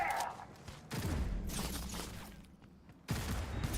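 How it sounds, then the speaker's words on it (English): Enemy gunfire in Cyberpunk 2077 comes in dense, overlapping volleys, with loud bursts returning after a brief lull, aimed at the player at close range. "Jeez, what are they shooting me with?"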